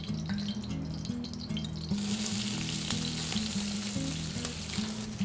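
Onions sauté in extra-virgin olive oil for a broccoli soup, a loud continuous sizzle that intensifies sharply partway through as more vegetables hit the pan, with rhythmic stirring scrapes and a low hum beneath.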